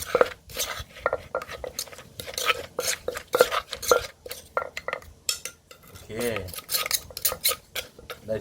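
Sugar and chilies being crushed in a mortar for Thai shrimp-paste chili dip, with repeated sharp knocking and grinding strikes at an uneven rhythm, close and fairly loud, with no talk.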